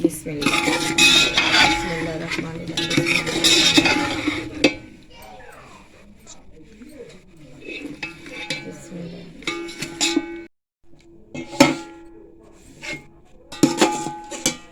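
Spices are stirred into chicken in a metal pot for chicken palao, and a spoon scrapes and clinks against the pot in bursts. Someone talks in between, and there are quieter gaps and a brief silence.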